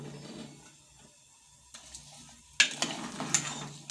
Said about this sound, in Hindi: मिक्स करेंगे और फिर धीमी आंच पे गोश्त को गलने के लिए रख देंगे हम।